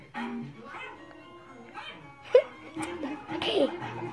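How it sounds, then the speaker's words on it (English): A dog in the Undertale video game yips, barks and whimpers in short bursts, with faint background music and a voice talking over it. "There's the dog."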